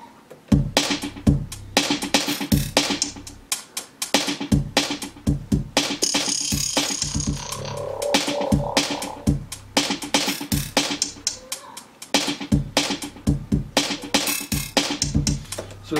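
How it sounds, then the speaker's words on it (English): A drum loop played on a Native Instruments Maschine Studio with delay applied: punchy kicks, snares and hats repeat in a steady rhythmic pattern, with a brief fill and echoing tails, played alone without talk. "So I'll play the drums just by itself."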